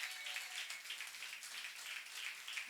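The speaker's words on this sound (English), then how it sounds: "Let's give him another round of applause." Audience applause at a youth leadership breakfast, a steady wash of many hands clapping at a fairly faint, even level throughout, with no voices over it.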